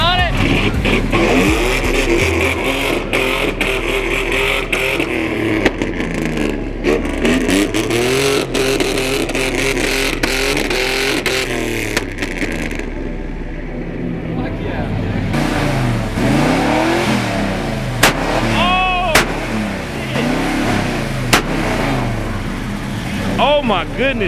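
Car engine revving hard at a large car meet, loud and close with repeated rising and falling sweeps over a dense crowd roar, while people talk and shout throughout.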